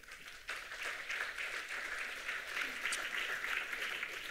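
An audience at an international colloquium on age-friendly cities applauds steadily to welcome a minister, sustained clapping filling the room for several seconds without speech.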